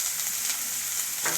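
Onions and curry leaves fry in hot oil for potato bonda, giving a steady bright sizzle throughout with a louder burst of crackling near the end, close and without voices.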